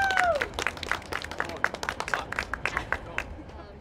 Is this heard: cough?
no